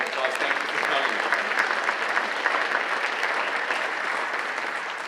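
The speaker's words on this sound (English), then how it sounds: "let's give them a warm round of applause" A conference audience applauds visiting corporate delegations from Cisco, Intel and Microsoft, with dense, steady clapping that fills the room throughout without letting up.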